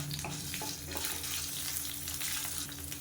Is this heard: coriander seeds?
yes